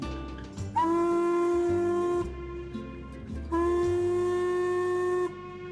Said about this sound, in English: we have to toot the whistle now, Keith.